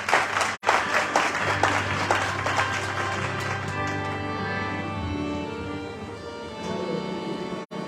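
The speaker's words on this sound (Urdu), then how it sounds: "آئیے زوردار تالیاں خدا کی بات" Loud congregational applause during a Sunday church service, dense clapping from a nearby crowd that gradually thins and fades, with a sustained musical tone underneath and a brief break near the start.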